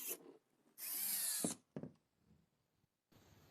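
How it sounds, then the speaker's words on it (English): A drill with a 3mm bit bores into the top of a washing machine valve piston, a short high whirring burst followed by brief scraping touches, quiet and close with silence between. "The hole is widened with 3mm drill bit from the top"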